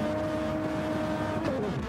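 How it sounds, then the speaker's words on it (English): Race car engines rev on the starting grid of a Tokyo street circuit in a racing game, a loud sustained drone of several motors holding high, steady pitch with a brief surge near the end. "as the revs build, as the lights go on"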